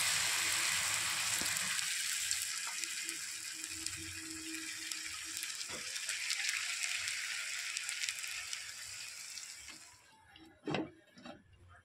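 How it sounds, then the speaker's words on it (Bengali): Snack pieces fry in hot oil in a pan with a steady, bright sizzle for about ten seconds, then the sizzle drops away, leaving a few clinks and taps. "একইভাবে কিন্তু আমি সবগুলোই ভেজে নেবো।"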